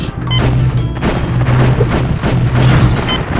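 Repeated crashing, thumping shots in a Crash Bandicoot 3 shooting stage aimed at ninjas, a loud, busy run of impacts and booms over a recurring low droning tone.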